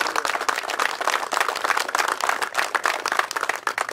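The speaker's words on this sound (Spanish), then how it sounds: "a quien les pido un fuerte aplauso" An audience at a municipal drainage-works groundbreaking in El Tephe gives sustained applause to welcome the municipal president, with dense, steady clapping that runs through the whole stretch without speech.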